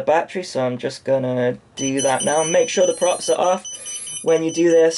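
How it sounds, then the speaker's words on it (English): A drone flight controller's beeper sounds as a thin, steady high tone after the battery is plugged in, running faintly beneath continuous close speech. "you can hear the beeper going off there"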